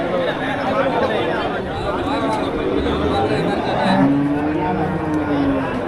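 Cattle low with long, deep moos, one swelling toward the end, amid steady crowd chatter and nearby voices at the busy Melapalayam cattle market.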